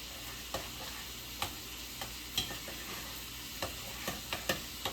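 Bacon mushroom chicken chili with cream cheese melting into it sizzles softly in a pot. A spoon scrapes and stirs with scattered, irregular clicks. The cooking is quiet and close, with no voices.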